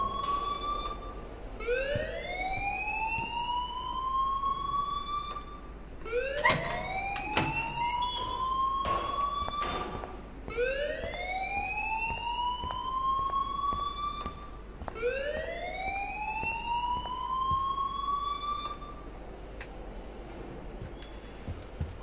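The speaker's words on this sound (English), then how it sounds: "please turn off that alarm since that's your job." A rising, wailing siren-like alarm repeats in regular sweeping cycles in the game Life is Strange, loud and insistent with faint ticking beneath, and no one speaking.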